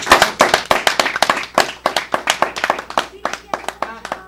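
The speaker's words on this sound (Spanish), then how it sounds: "vamos a despedirlos con un fuerte aplauso" Theatre audience at a science museum applauding actors after a play, a quick irregular run of sharp hand claps, close and loud, with some voices mixed in.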